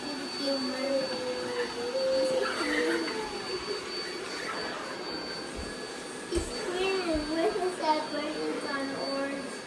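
A Bissell robot vacuum runs over a load of Orbeez water beads, a steady mechanical whir with scattered crunching and squeaks, while people talk nearby throughout.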